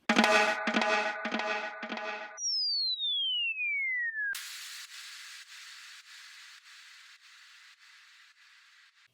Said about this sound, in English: And with this white noise fall